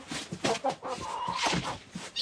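Laying hens cluck in short, irregular bursts close by, several birds overlapping in a lively, busy chatter.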